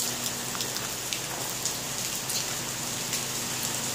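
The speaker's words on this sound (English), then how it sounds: "I don't want to work in the rain." Rain falls steadily and evenly, a dense patter of drops striking surfaces with no talking.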